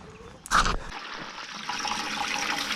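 Water runs from a tap into a sheep water trough with a cistern float. A brief loud knock is followed by a steady, continuous rushing hiss, with no talk.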